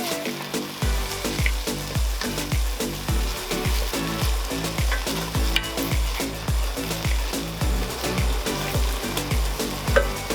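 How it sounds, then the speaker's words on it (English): Blended chopped tomatoes are stirred into a peanut butter chicken stew, with a loud, steady sizzle of frying throughout. A spoon scrapes the pot in a regular rhythm, close up, roughly every half second. "I'm continuously stirring because I don't want it to burn."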